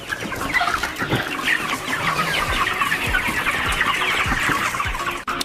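Chickens cluck and call steadily inside a poultry house, a dense flock chorus with frequent sharp nearby clucks over constant barn murmur, no talk.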